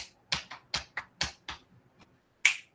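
Finger snaps demonstrated in a sound workshop on theatre and puppetry, a string of about eight crisp, close snaps at a quick irregular pace with a brief pause before a final louder snap.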